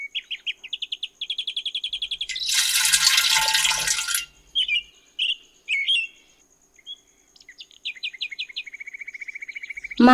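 Small birds chirp in quick repeated trills and short bursts, near and clear, with a brief rush of pouring water into a pot in the middle and quiet gaps between calls.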